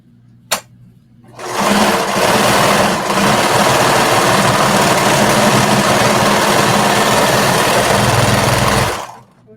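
A serger stitches a sports bra shoulder strap closed in one continuous loud, fast whirring run of about seven seconds, close up, after a single sharp click and a brief pause, then stopping abruptly.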